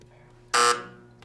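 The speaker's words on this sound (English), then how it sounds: "I'm sorry the buzzer sounds." Quiz show buzzer at a high school academic competition, a single short, loud electronic blare lasting about a quarter second over quiet room tone.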